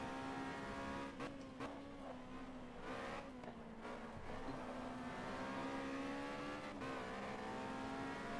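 A race car in the GTR 2 racing game, an Astra at Thermalito, pulls out onto the track with a steady droning engine, brief revs and gear changes, and faint tire noise throughout.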